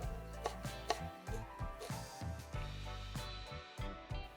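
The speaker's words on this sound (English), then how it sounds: "Finally chop the onion." A knife chops an onion on a board, giving a run of irregular thuds and taps, close and moderately loud, with no talk and faint background music.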